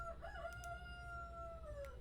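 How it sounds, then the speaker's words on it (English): A rooster crows in one long, drawn-out call with a clear tonal rise and fall, heard close over a steady low background rumble. "If you hear my rooster, I truly apologize."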